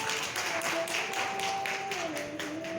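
An audience at an international youth conference in Delhi breaks into steady, dense clapping, moderately loud and continuous throughout.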